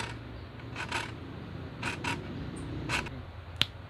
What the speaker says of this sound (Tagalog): Putulan nyo lang siya ng lagari.